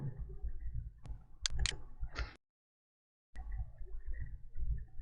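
Several sharp computer mouse clicks on a confirm button sound up close, some in quick pairs, over a steady low room hum that drops out briefly near the middle.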